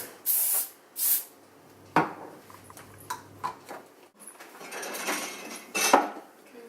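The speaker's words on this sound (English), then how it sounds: "you need to spray it with spray and cook" Baking spray is sprayed into a 20 cm cake pan in a home kitchen: several short hissing bursts, close and clear, mixed with light metallic clinks of the pan, and no talking.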